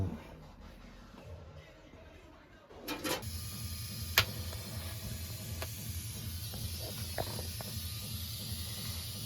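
TIG welding on a stainless steel exhaust line: a steady, close electrical hiss and low buzz starts a few seconds in and holds, with a couple of sharp clicks along the way.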